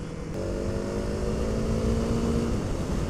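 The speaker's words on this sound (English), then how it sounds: "I definitely hear the exhaust now" Honda CRF300L motorcycle with a modified stock exhaust, idling nearby with a steady, even low drone that holds for a few seconds.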